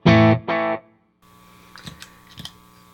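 An electric guitar through a delay pedal on an ethereal setting plays two loud, sustained, distorted notes. After a short silence, faint shimmering repeats fade in and trail away.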